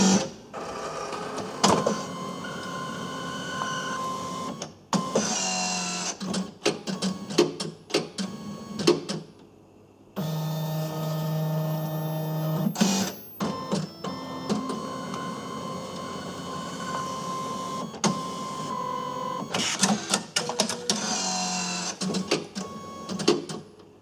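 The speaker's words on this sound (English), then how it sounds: "Hit print, one copy, go." A Brady BBP35 or BBP37 industrial label printer prints a vinyl sign, giving a steady mechanical whirring and feeding drone broken by clicks and brief pauses. It runs continuously for about twenty seconds, close and fairly loud, with no voices.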